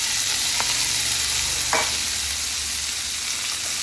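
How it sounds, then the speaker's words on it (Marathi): Fenugreek leaves sauté in hot oil with a dense, continuous sizzle, joined by a couple of faint stirring scrapes, heard close and alone without speech. "छान असं परतवून घेऊया।"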